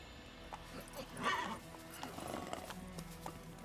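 The horse Roach gallops in The Witcher 3, with quick rhythmic hoofbeats and a short whinny partway through, faint and mixed with other game sounds.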